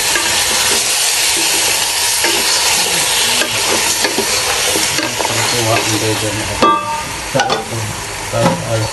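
Chicken sizzles and fries in a pan while being stirred, with continuous loud hissing and scraping clatter from the utensil throughout.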